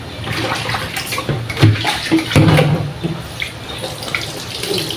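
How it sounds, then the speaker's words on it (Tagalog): Tap water runs steadily into a sink while tilapia is being rinsed, a close, continuous gush with some splashing and clatter of handling, and no talking. "Sa isda, nakakatatlo o apat na hugas ako."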